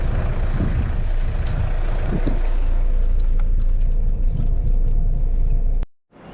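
A car drives along a rough dirt track on Santa Maria in the Azores, giving a steady, loud engine and road rumble with knocks and jolts from the uneven ground throughout. The sound cuts off abruptly near the end.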